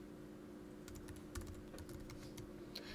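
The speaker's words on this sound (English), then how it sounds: "And I'm going to type." Close, quiet keystrokes on a computer keyboard, a short irregular burst of clicks over faint background hum.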